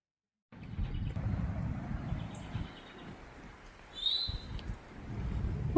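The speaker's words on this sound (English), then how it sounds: "Wonder what that bird is." An unidentified bird calls near Lost River Cave in Bowling Green, Kentucky, giving one brief, high, clear chirp partway through, over a steady low rumble.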